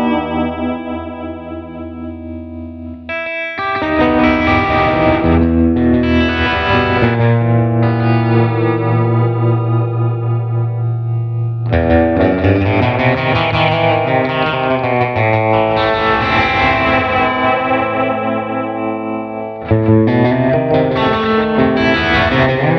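Gretsch electric guitar with a Bigsby vibrato, played through slapback delay, light tremolo and generous reverb: ringing sustained chords and melodic phrases with wavering pitch bends, loud and up close, alone without talk.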